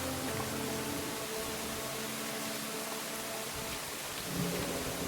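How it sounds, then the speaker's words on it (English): Heavy rain pours steadily in a video game thunderstorm, a dense, constant hiss with low rumbling thunder underneath that swells near the end; no voices. "The rain gets louder."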